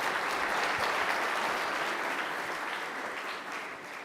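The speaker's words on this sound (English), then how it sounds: "A round of applause to him." A closing-ceremony audience at the World Geothermal Congress 2026 in Kenya applauds an honored speaker, a dense and steady round of clapping that fills the room and eases off slightly toward the end.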